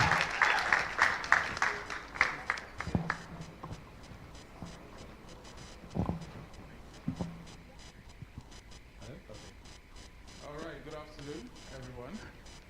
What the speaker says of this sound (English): Don't stop clapping. Don't stop clapping.